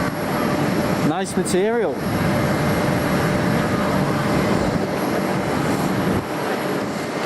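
Aircraft at Amsterdam Schiphol Airport give a steady, loud roar throughout, with a brief rising-falling whoosh early on. A person talks over it.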